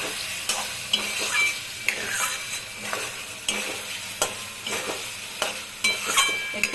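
Goat liver and potatoes stir-fry in a pan over a medium-low flame, a steady close sizzle broken by repeated scraping and clinking stirs, with no voices.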